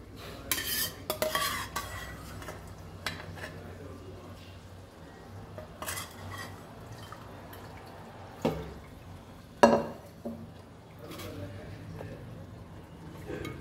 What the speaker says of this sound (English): Mix this all very nicely.